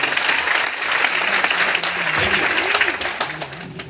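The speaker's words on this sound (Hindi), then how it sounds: "एक बार सुरेंद्र वत्स जी के लिए जोरदार तालियां बजाएं" Enthusiastic applause from an audience at an RCM educational gathering in Ludhiana, Punjab, honoring Surendra Vats: steady, loud crowd clapping throughout, with a voice faintly audible beneath it.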